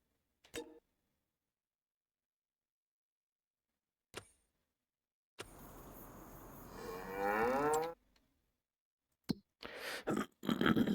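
Cows in the Farming Simulator 25 video game give one long drawn-out moo, clear and alone, with brief clicks and game sounds before and after.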